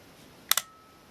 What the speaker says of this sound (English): Let's fire the shutter here.